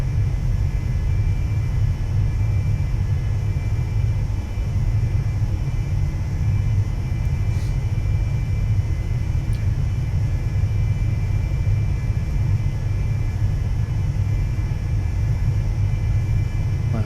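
Carenado Cessna Citation II jet cruising in X-Plane 11, a steady, unbroken engine drone with deep low rumble that holds evenly throughout, no voices.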